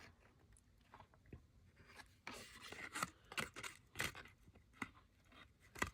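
Scissors snip and crunch through paper in short irregular bursts while a journal page is cut and trimmed, close and quiet, with rustling and handling noises between cuts.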